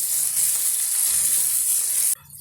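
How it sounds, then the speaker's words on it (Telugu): Chopped onion pieces frying in oil in a pan for pumpkin curry, giving a loud, steady sizzle that runs almost unbroken before dropping away sharply near the end. "మనకి ఇది ఈ మాత్రం ఇట్లా వేగిపోవాలండి ఉల్లిపాయ ముక్కలు"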